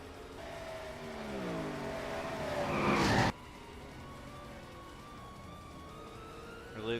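Race car spinning out and crashing in the NR2003 racing game, with engine whine and screeching tires building to a loud burst that cuts off sharply, then a quieter engine drone and a final brief squeal.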